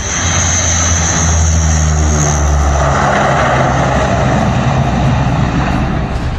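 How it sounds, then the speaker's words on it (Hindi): Indian Army C-130J Hercules turboprop readying for takeoff on an expressway during an airstrip rehearsal, a loud steady propeller drone with a low engine hum that grows slightly rougher, close and continuous, no speech. "इंडियन आर्मी का ये C-130J हरक्यूलिस विमान है जो इस वक्त एक्सप्रेसवे पर उड़ान भरने की तैयारी कर रहा है"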